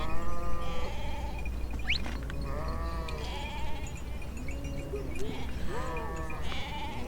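Goats bleat repeatedly on a mountain pasture between Lulusar Lake and Lalazar in Pakistan, several overlapping wavering calls, fairly close, over a steady low background rumble.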